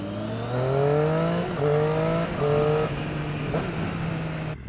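A restricted A2 Triumph Street Triple 675cc three-cylinder motorcycle pulls under way, its engine note climbing through several gears with short breaks at each shift, loud and close from the rider's position.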